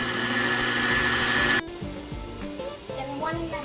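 An electric hand mixer whirs loudly and steadily, beating eggs into chocolate chip cookie dough, then stops abruptly partway through and leaves quieter kitchen sounds behind.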